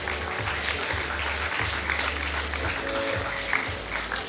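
Parents clapping steadily at a school annual day prize announcement, a dense, continuous patter of applause from a large seated crowd with faint murmuring underneath.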